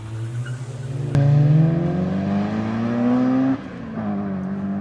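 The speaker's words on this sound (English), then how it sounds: "First up on the list, we had the Golf 6R versus the Honda EP3 Type R." A Golf 6R and a Honda EP3 Type R race at a racetrack, one engine snapping in loudly and revving up in a long, rising pull, then a shift and continued acceleration, close and without talk.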